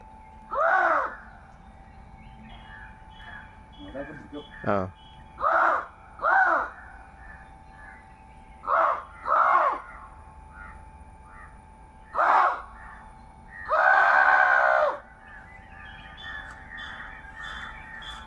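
Crows caw loudly and close by as a flock is called in: about eight harsh calls, some single and some doubled, separated by short pauses.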